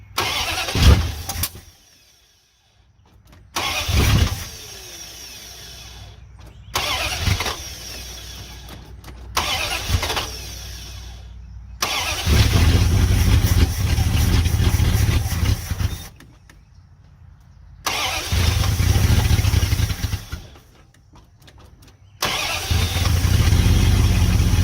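A 1971 Dodge D100 pickup, abandoned for 34 years, has its engine cranked in repeated long starter bursts separated by silences, catching and running roughly toward the end.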